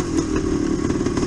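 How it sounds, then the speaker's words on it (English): A Yamaha DT360 motorcycle engine idles close by, a steady low burbling chug with a loose, clattery two-stroke pulse for a short moment. "That's just an idle there. That's got tons of torque."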